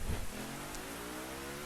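Rain falls in The Crew racing game as a KTM motorcycle rides through it: a faint, steady hiss over a low, even motor hum, with a brief thump at the start.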